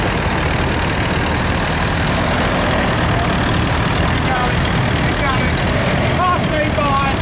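Four-cylinder diesel Ferguson tractor running in an arena parade at an agricultural show, a loud steady low engine drone throughout, with a voice speaking over it.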